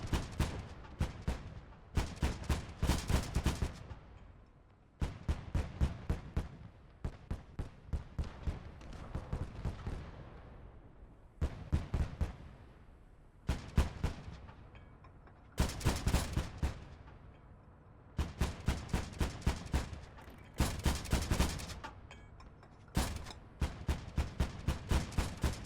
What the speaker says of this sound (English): Maybe we can listen into these guns instead, because this must be new sounds too.